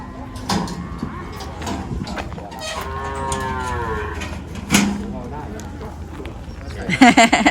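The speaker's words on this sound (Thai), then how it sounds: "โอ้โหวันนี้วัวโซนทางด้านหลังเยอะแยะ" Cattle low repeatedly at a busy livestock market in Thung Fa Bot, Thailand, with several drawn-out moos at mid distance. Someone talks over them, and there are scattered knocks and hoof clatter.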